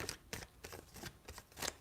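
Tarot cards are shuffled in a few quick bursts of soft riffling and slapping, close and quiet, spaced across under two seconds, with no voice.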